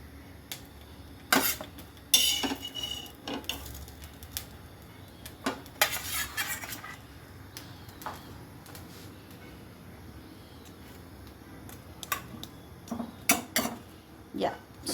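Nugget sandwich filling mixed on a tawa: scattered metallic clinks and scrapes of a utensil against the pan, irregular and close, over a quiet background, with light talk at moments.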